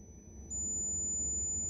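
Piezo speaker driven by a frequency generator emits a piercing, steady high-pitched tone that steps up in pitch partway through, over a low background hum.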